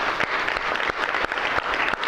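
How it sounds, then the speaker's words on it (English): Lecture-hall applause from university students in an operating-systems class: a steady wash of many hands clapping, moderately loud and even, with a few sharper individual claps standing out. "So I also think we should give Ali a round of applause for grading the exams."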